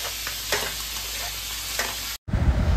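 Pointed gourd and potato stir-fried with ginger, cumin and chilli paste, scraping and hissing steadily with a couple of spatula strokes, then a brief gap and a louder, rougher burst of sizzling close by.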